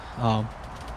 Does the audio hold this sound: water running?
no